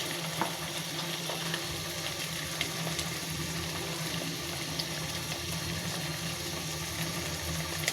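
Fish fries in a pan, giving a steady, even sizzle with faint crackles and small pops. The frying stays soft and continuous, with no voices.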